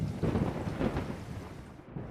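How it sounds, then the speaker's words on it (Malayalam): Rain and thunder used as a sound effect in a romantic audio story: a steady, fairly loud wash of rainfall with low rumbling thunder swelling through the first second, then settling back into continuous rain with no voices. "എന്തൊരു മഴയാണല്ലേ"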